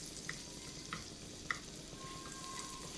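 Garlic and finely chopped green chili sautéing in melted butter give a faint, steady sizzle, with a few soft clicks of stirring scattered throughout.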